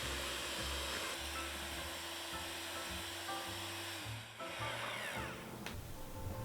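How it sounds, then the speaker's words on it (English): Electric hand mixer beating sugar into a cheesecake mixture for a no-bake coconut dessert, a steady loud motor whir with shifting low tones throughout, briefly dipping near the middle. "We need to dissolve the sugar, so using a mixer,"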